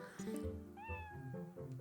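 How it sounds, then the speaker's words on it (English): A cat meows in Zelda: Twilight Princess, a few drawn-out game-audio cries heard close and clear over a soft background score, with no talking. "the only thing we can do is just listen to her like go meow, pretty much."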